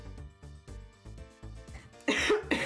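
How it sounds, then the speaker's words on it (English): A man fakes an exaggerated dad-style cough, giving a series of deep throaty hacks and grunts close to the mic that build into a louder, harsher final cough. "I'm so good at coughing like a dad."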